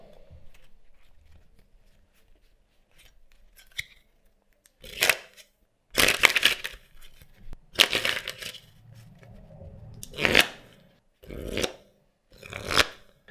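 A deck of Wild playing cards, a first edition with a flamingo design, dribbled from hand to hand, heard as several separate bursts of fluttering riffles, close and fairly loud, with quiet pauses between them and no talking.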